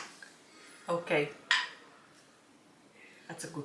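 Metal canning jar lids seal with a few sharp, bright pops and clinks, three distinct close snaps in the first half and a lighter pair near the end, set against a quiet background.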